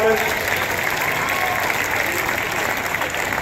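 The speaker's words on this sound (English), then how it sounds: "Give them all a big round of applause" Spectators at the NYS Woodsmen's Field Days break into loud, sustained applause after a two-woman crosscut saw race, a dense outdoor wash of clapping with crowd noise mixed in.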